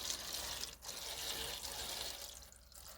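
Water pours steadily into a seedling tray for bottom watering, a close, continuous splashing trickle with a few brief dips as the stream shifts.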